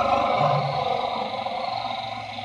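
An elephant calls out to its companions with a long, low, rumbling roar that holds steady and then fades slightly, loud and close with no speech over it.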